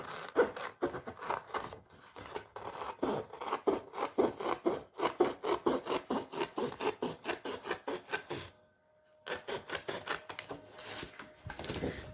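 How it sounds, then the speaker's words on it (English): Extra cardstock is cut by hand in a steady run of close, rasping strokes with one short pause, then more cutting follows. "Now we'll be cutting this extra cardstock."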